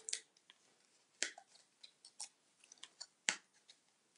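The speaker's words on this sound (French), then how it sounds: "Mais je vais recouper mon étiquette ici." Scissors trim a paper label in a series of short, crisp snips, irregularly spaced and close, with quiet pauses between cuts.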